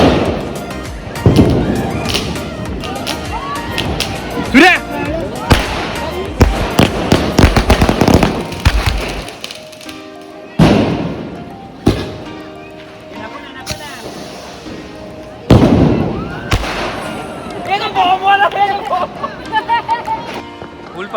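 Diwali firecrackers held and set off by hand at a crowded outdoor celebration, a series of loud sharp bangs and crackling bursts with gaps between them, over excited shouting and chatter from the crowd.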